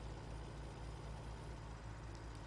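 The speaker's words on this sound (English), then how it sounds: "This also does have some very nice engine sounds." A long semi truck idling in the video game Farming Simulator 17, a steady low engine drone with a rhythmic throb that stays constant.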